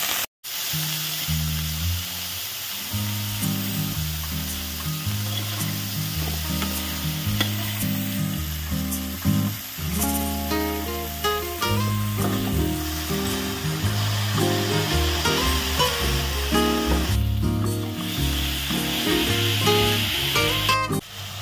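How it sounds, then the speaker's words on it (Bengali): Vegetables stir-fry in white oil for restaurant-style chowmein, with a continuous loud sizzle and repeated clinks and scrapes of a utensil against the pan. "এবার সব সবজিগুলো এক এক করে ভেজে নেবো"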